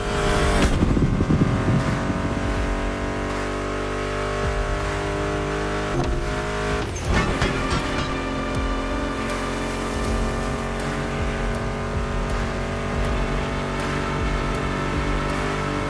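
American muscle car engines roar and rev hard in The Crew Motorfest, a loud continuous growl with gear shifts, a sharp burst midway and a brief tire squeal.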